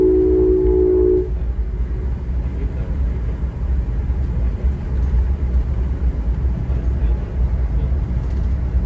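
Amtrak train #190 accelerates into high-speed running in Rhode Island, a steady loud rumble of rail noise heard from onboard, with a brief tonal whine at the start before the roar settles into a continuous drone.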